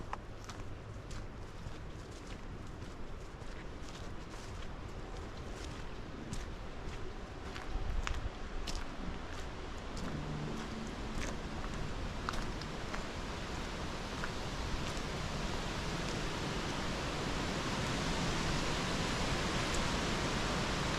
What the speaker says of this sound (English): The ever-present wind.